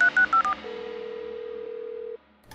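A cartoon bamboo phone being dialed: a quick run of four beeping keypad tones, then a steady held dial-style tone that cuts off abruptly.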